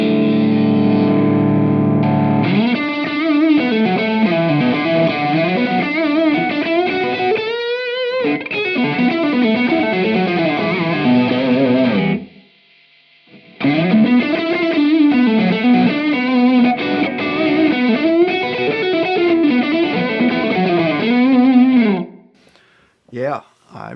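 Overdriven electric guitar through a Strymon Iridium pedal with drive maxed and an internal booster, thick saturated bends and sustained notes played close and loud, pausing briefly midway before continuing, then stopping.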